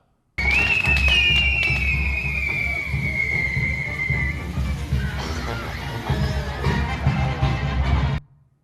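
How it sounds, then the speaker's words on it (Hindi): Fireworks rockets launching at a church, with a long whistling streak that slowly falls in pitch, then a stretch of dense crackling and popping, loud and close throughout amid crowd noise. "तो ये आतिशबाजी हो रही थी"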